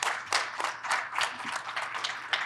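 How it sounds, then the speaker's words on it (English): A conference audience at a mobility industry breakfast event applauds the panelists, with steady, dense clapping from a crowd and sharper bursts throughout. "So a round of applause for the panelists"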